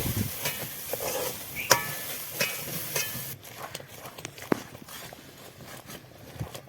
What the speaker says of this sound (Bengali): ডালটা সিদ্ধ হয়ে গেছে অল্প একটু ভেজে নিব